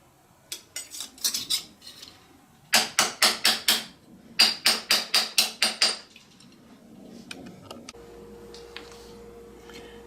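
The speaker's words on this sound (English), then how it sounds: "that was using the bracelet mandrel from Potter USA with a ball peen hammer" A ball peen hammer strikes a metal cuff bracelet on a bracelet mandrel in sharp, ringing taps, some scattered and others in quick bursts of about six blows, close up, followed by quieter handling and a low hum.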